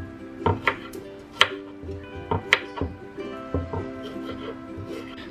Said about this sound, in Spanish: lo que voy a hacer es cortar unos ajos